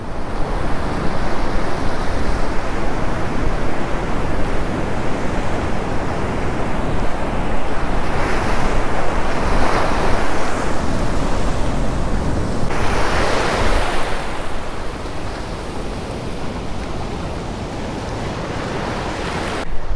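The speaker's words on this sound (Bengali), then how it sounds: "বঙ্গোপসাগর, ও বিশাল ঢেউ উঠছে এখানটা।" Big waves from the Bay of Bengal roll onto a beach near Vizag, a loud continuous roar of surf with swelling crashes and heavy wind buffeting the microphone, and no voices.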